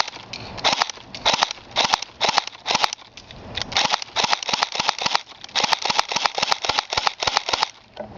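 Rapid series of sharp snapping shots from a P30 airsoft pistol fired on semi-auto, dozens of crisp pops in quick uneven succession, close by.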